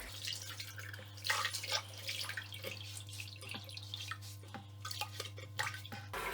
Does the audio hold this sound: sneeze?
no